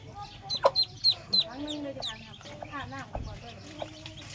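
Hens cluck in short bursts close by, with a few higher chirps and bird calls mixed in over a low outdoor rumble.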